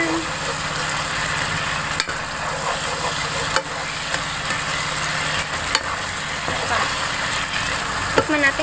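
Sweet bagoong alamang shrimp paste is mixed in a hot pan, a continuous close sizzle with soft stirring scrapes and a few sharp clicks, while someone talks over it.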